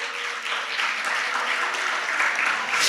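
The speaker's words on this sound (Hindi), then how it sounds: "ताली बजाओ इनके लिए" Audience applause at a wellness workshop session, a steady dense wash of many hands clapping that holds evenly throughout and swells slightly at the end, with no voices heard over it.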